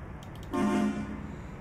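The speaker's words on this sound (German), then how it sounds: "Kurz gehupt." A truck horn in Euro Truck Simulator 2 gives one short, loud honk partway through, preceded by a few faint ticks, with road noise continuing underneath.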